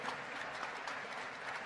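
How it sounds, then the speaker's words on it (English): Faint, distant applause at a collegiate athletics hall of fame induction, with an even patter of many hands clapping in a large room. "And one more round of applause for Harrison Dillard."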